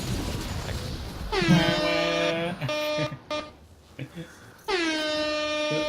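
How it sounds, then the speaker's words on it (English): Several loud, blaring air horn blasts ring out with brief pauses between them. "Cue the air horn."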